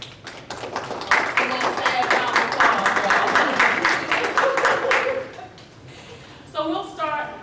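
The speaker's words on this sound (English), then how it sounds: "Please give them a round of applause." An audience at an expo panel claps in a steady burst that stays dense and loud for about four seconds and then dies away, and a speaker's voice follows close by.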